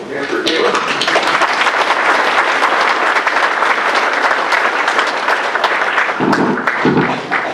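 Audience applause for a speaker at an event in the Chico Elks Lodge, Butte County: sustained, dense clapping from a crowd throughout, loud and steady, with a brief voice near the end.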